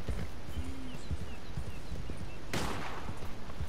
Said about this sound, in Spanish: Escucha disparo.